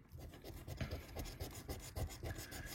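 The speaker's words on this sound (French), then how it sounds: "Et on continue à gratter." A coin scratching an FDJ Objectif Diamant scratch-card lottery ticket, producing close, continuous rasping strokes in a steady back-and-forth rhythm with no talk.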